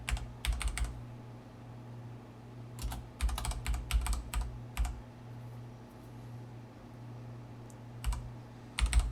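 Typing on a computer keyboard, bursts of rapid close key clicks separated by pauses, over a low steady hum with no talking.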